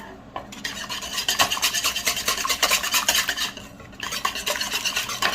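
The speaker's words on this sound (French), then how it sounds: "Je vais mélanger en forme de 8." Whisk or spoon stirring eggs and sugar in a bowl for chocolate cake batter, a steady rapid scraping and rasping that runs throughout, close and fairly loud with a brief pause near the four-second mark.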